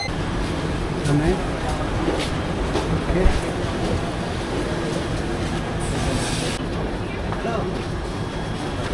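Steady rumbling rail noise with a faint metallic squeal, a train moving or idling nearby at a station, with people talking in the background throughout.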